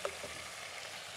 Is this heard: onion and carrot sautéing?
yes